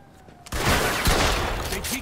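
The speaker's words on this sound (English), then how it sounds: "Who's shooting?" Gunfire in the video game Mafia II erupts after a short quiet moment into a dense, loud burst of shots that keeps going to the end.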